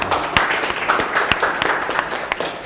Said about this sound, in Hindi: ये तालियां भाई